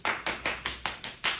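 Audience clapping in bursts, about seven quick rounds of applause rising and fading in a steady rhythm, fairly close and moderately loud, no talking.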